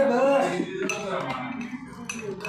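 A spoon clinks and scrapes against glasses while mojito drinks with water are stirred, bright metallic taps and rattles coming in irregular bursts under nearby people talking.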